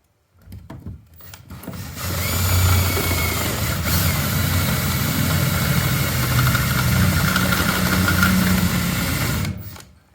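A drill boring a pilot hole for a diesel heater fuel pick-up tube runs steadily for about eight seconds, a close, even whirring that starts and stops abruptly, with no talking.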